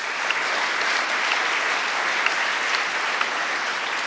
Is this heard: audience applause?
yes